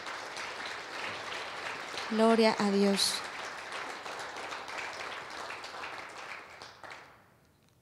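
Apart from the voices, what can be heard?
congregation applauding in church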